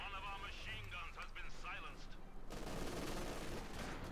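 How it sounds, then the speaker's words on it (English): A Maxim machine gun fires in a video game battle, with rapid sustained rattling bursts mixed into dense combat noise while a voice talks over it. "Maxim joining in to support the Germans. There you go, that's a Maxim."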